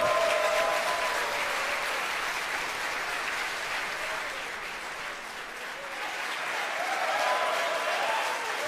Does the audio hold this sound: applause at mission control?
yes